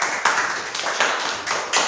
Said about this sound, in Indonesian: Tepuk tangan kelompok dua.